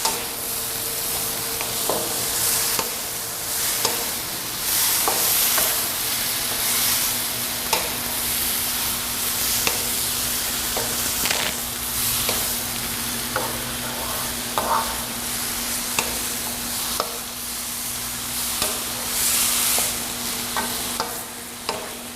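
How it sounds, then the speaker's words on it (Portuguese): Ground beef with onion and garlic frying in a pan, a loud steady sizzle punctuated by repeated scraping and clinking as a utensil stirs the meat, close up throughout with no talk. "eu vou começar a refogar ela então, né? Ou seja, começar aqui a fritar ela"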